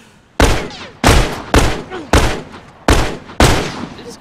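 Gunfire in The Last of Us multiplayer, six sharp loud shots at uneven intervals, each with a short decaying tail, close and prominent.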